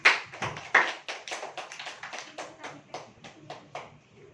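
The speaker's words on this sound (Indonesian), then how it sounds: "Baiklah, beri tepuk tangan untuk" A classroom group claps hands in an uneven patter, distinct individual claps fading gradually over a few seconds with no voices over them.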